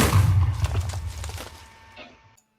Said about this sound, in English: The explosion from my talisman destroyed my diamond sword.